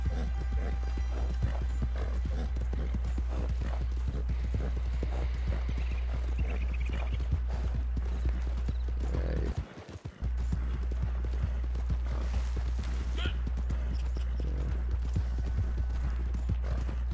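Horse hooves clip-clop steadily at a walking pace in a video game, moderately close, with a brief dropout midway and faint talk in the background.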